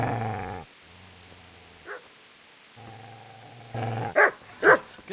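A dog in the Kingdom Come: Deliverance video game growls low and then barks sharply a few times, the barks loud and close after stretches of quieter growling.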